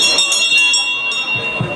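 A bell is struck several times in quick succession to open a Rotary and Rotaract club evening in Pointe-Noire. Its bright ringing tones hang and overlap, fairly loud and close.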